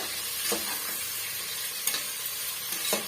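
Onions being stirred and sautéed in a pan for chicken biryani, a steady soft sizzle with a few brief scraping stirs spaced through it, close and moderately quiet, no voices.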